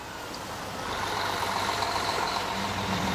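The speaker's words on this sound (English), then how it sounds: "That was a Pan Am truck." A Pan Am dump truck rolls past as part of a railway maintenance convoy, a steady loud engine rumble building and holding, close by, with no talk over it.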